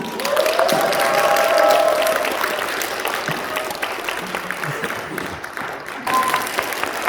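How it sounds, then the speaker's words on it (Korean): An audience at a business seminar applauds and cheers as a group leader is introduced, a broad wash of clapping with shouts rising above it, loud early and gradually settling. "큰 함성 박수 부탁드립니다"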